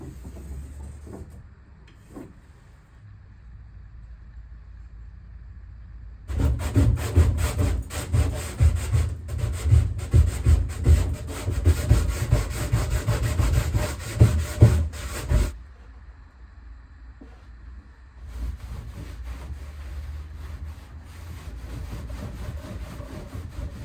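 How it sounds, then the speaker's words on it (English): Sandpaper scuffs surfaces by hand in quick back-and-forth rubbing strokes, a close, loud rasping burst lasting several seconds between quieter stretches, with no talking. "I'm gonna go in and scuff up the surfaces with some sandpaper"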